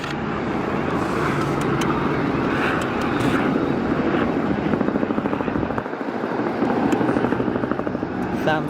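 An R44 helicopter roars close overhead at an airport, its rotor blades chopping steadily with a loud, continuous engine drone throughout.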